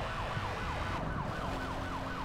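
A police siren in the racing game Need for Speed: Hot Pursuit wails up and down repeatedly over a steady engine drone, loud and close.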